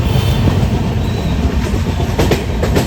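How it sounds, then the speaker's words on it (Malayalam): A train rumbles steadily along the tracks, with continuous low wheel noise and a few clacking bursts near the end. "ട്രെയിൻ അതിൻ്റെ ലക്ഷ്യ സ്ഥാനത്തേക്ക് കുതിക്കുകയാണ്"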